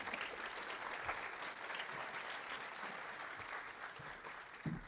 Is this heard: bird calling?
no